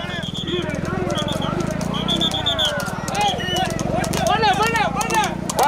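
Racehorses gallop in a horse race at Kumbakkudi, with steady hoofbeats running under loud, continuous commentary from someone talking throughout.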